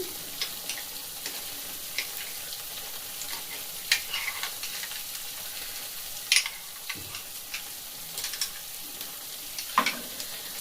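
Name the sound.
milk being stirred into paneer masala in pan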